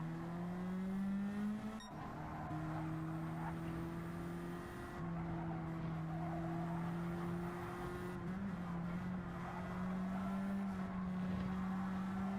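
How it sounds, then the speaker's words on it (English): A Nissan Silvia race car in a racing video game drones at a steady engine pitch with faint tire chatter under it, continuous and close with brief shifts in tone. "Can really hear those tires chattering underneath Doug Silvia right now"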